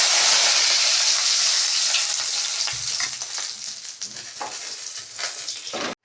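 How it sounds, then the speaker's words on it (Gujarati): Khichdi is tempered in hot oil with a loud, steady sizzle and hiss that gradually eases, followed by stirring scrapes and a few soft knocks near the end before it cuts off. "ચાલો ખીચડી વઘારાઈ ગઈ."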